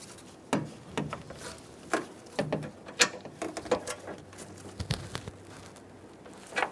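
A ratchet snugs down the support bar bolts on an AC condenser and receiver drier assembly of a 2014-2018 Chevrolet Silverado, giving scattered short clicking bursts and ticks, close but fairly quiet, with no talk.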